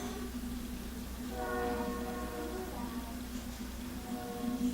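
A train passes close by, with a steady low rumble and a sustained multi-tone horn that rises in the middle and returns briefly near the end.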